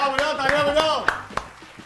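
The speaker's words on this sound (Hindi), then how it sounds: "ताली बजा दो, बजट इतना ही हमारा." A studio audience in a talk-show setting breaks into scattered clapping at the host's request, a brief patter of claps heard under and after a speaking voice.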